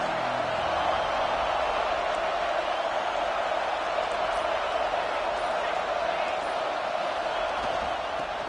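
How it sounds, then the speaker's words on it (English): Stadium crowd at a football game giving visiting team a loud welcome, a dense, steady roar of many voices that fills the whole stretch without a break. "This crowd bringing an ear-splitting welcome to their visitors."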